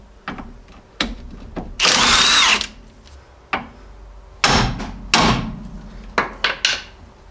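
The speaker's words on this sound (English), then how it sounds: "So I'm just going to zip that off with the impact." An impact wrench removing a 3/4 nut on a Jeep Grand Cherokee ZJ tie rod fires in a long loud burst, followed by several short sharp rattling hits and clanks from tools, close by.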